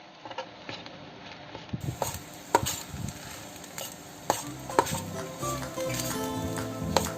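Vegetarian fried rice with black salt, turning purple as it is stir-fried in a pan, gives irregular spatula scrapes and clinks over a light sizzle, close up and without talk.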